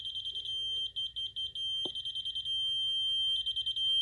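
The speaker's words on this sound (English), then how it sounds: "Fast beep means you're high, slow beep means you're low." A laser level receiver on a grade pole sounds a high, steady electronic beep in fast pulsing bursts, then a long constant tone, then pulses again, with a faint low rumble beneath and a sharp click midway.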